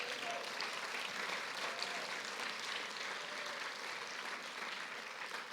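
A church congregation at a Spanish-language sermon applauds, with a soft, steady wash of many hands clapping at a distance that holds evenly throughout without clear individual claps.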